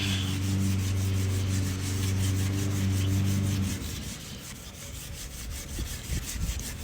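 Scrubbing an alloy bead lock rim coated in Molasses cleaner, a steady loud rasping rub that runs continuously, then turns into looser, rougher brushing strokes near the end.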